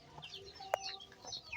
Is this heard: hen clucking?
yes